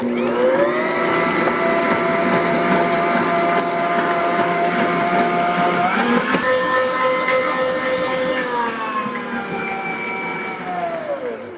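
Electric mixer whirs steadily on high speed while beating five egg whites for banana pudding, a loud, continuous motor hum whose pitch shifts upward partway through and then eases back down.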